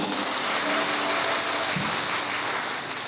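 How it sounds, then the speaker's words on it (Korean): Wedding guests applaud steadily at a ceremony right after the couple's vows, a dense, sustained wash of clapping that holds level for a few seconds and eases slightly toward the end, with faint voices underneath. "축복의 박수 부탁드립니다."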